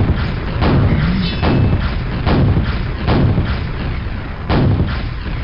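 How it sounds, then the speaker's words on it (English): Grenade explosions from an ogre in the Quake video game level Gloom Keep, about six heavy, booming thuds at roughly one-second intervals over a dense, rumbling background. "give yourself a little space to handle this ogre so he can't get you with his grenades"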